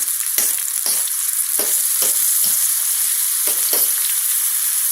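Chicken stir fry sizzles steadily and loudly in a pan on the hot side of a burner, a continuous bright crackle broken by the repeated scrape and stir of a utensil.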